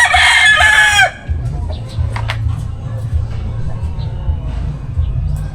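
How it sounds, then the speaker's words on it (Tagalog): A short, loud rooster crow opens the clip, then fades into quiet outdoor rumble with a few faint distant clicks, in a public cemetery with chickens perched atop tombs. "sa ibabaw yung mga manok"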